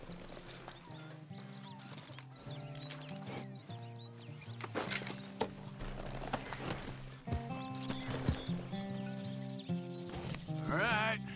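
Horse hooves clip-clop in Red Dead Redemption 2, a steady moderate rhythm set among game music and ambience, with an occasional whinny-like sound near the end.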